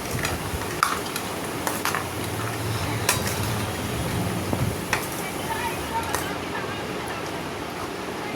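Aloo kabli, a potato snack, is mixed by hand in a bowl, giving a continuous close wet stirring and squelching with small clicks throughout.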